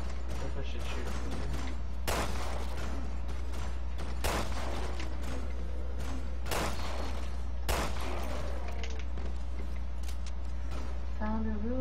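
Gunfire in the video game Resident Evil Revelations 2, several sharp shots spaced a couple of seconds apart over a steady low game hum, with quieter ambient effects between the blasts.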